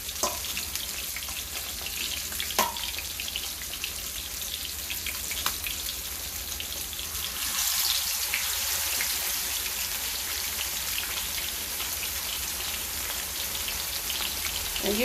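Thick pieces of fish for a stew frying hard in a shallow layer of oil, a steady dense crackling sizzle that swells slightly louder partway through after a few sharp pops early on.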